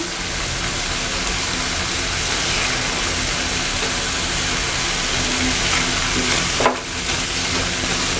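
Peach jam bubbling and sizzling in a pan while a spoon stirs it steadily, a dense close-up crackle throughout with a brief louder scrape near the end.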